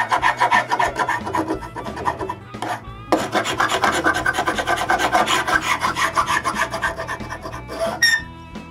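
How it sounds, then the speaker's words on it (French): Scraper rasping excess glue off freshly glued wooden boards in a woodshop: repeated rhythmic back-and-forth scraping strokes, close and loud, with a brief pause midway. "Avant que la colle soit complètement sèche, je gratte l'excès de colle."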